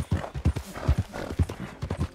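Rhythmic clip-clop of horse hooves in the video game Red Dead Redemption 2, a steady trotting pattern of close, hollow knocks repeating throughout.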